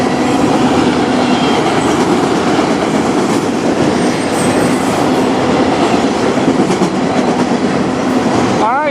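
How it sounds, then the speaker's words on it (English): A CN freight train pulled by three engines passes close in Sarnia, Ontario, a loud continuous rumble of wheels with rhythmic clickety-clack and a brief wheel squeal near the end. "we got a train coming from Michigan, from the tunnel"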